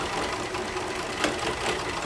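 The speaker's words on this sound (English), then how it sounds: "take my sewing machine, start where my chalk mark is, and just sew out" A sewing machine stitches steadily along a fabric purse for a school craft project, a loud continuous mechanical whir with fast rhythmic needle chatter and no pauses.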